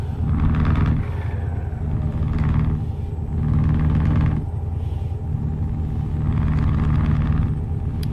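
Truck engine in Euro Truck Simulator 2, deep rumbling revs rising and falling in repeated surges, loud and steady with no voices.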